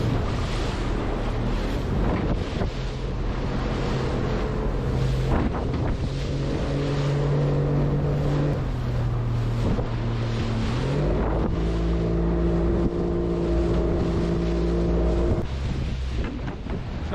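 A motorboat crosses the bar over ocean waves, its engine droning loudly and shifting pitch as the throttle changes, with heavy wind buffeting the microphone and no talk.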